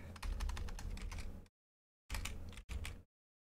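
Fast typing on a computer keyboard, a dense run of close key clicks for about a second and a half, a pause of silence, then two more short bursts of keystrokes.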